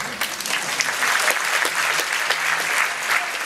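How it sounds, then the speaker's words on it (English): A theatre audience applauds during a film Q&A at the Ryerson Theatre: loud, dense clapping from a large crowd that runs without a break, with some cheering mixed in. "And yes, that deserves an applause."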